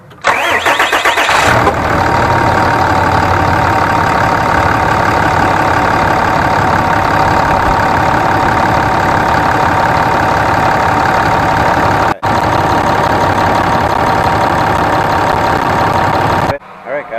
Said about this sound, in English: So I'm just going to go ahead, crank it, start it, and hopefully it's good to go.